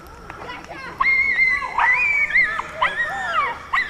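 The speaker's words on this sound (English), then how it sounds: "it's got to be the same dog" A dog whimpers and whines in a series of high, wavering cries, four or five drawn-out pitched whines rising and falling over about four seconds, close and fairly loud above a steady background hiss.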